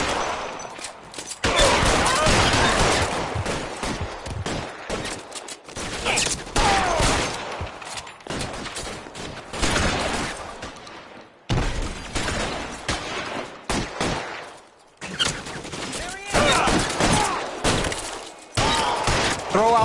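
Intense gunfight in L.A. Noire, with dense bursts of rapid gunfire and repeated shots in clustered volleys separated by brief lulls, loud and close, with voices shouting in between.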